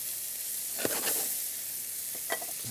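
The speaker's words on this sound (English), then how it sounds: "we'll take some onions and we'll start kind of sweating these down" Onions sweat down in a pan with a soft steady sizzle, punctuated by two brief stirring scrapes, close by and with no talk.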